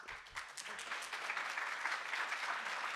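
Audience applause fills a conference hall at GopherConAU 2019, a steady, dense burst of many hands clapping close by, holding level for the full few seconds with no voice over it.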